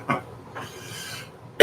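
A single sharp cough bursts out near the end, preceded by a softer breathy cough and a quiet rasping hiss in a still room.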